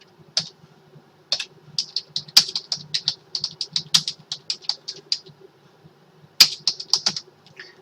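Fingers type a code comment on a computer keyboard, a quick, close run of crisp key clicks in short bursts with brief pauses and a few louder spacebar or enter strikes, no voices.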